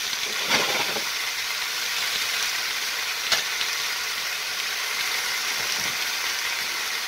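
Chicken and asparagus sizzle in a hot pan with a continuous, close hissing fry, broken by a couple of brief stirring scrapes.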